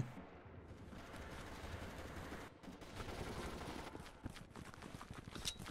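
Dense, continuous gunfire in the video game Red Orchestra: Ostfront 41-45, rapid bursts and scattered louder shots, a chaotic battle din filling the whole stretch without pause.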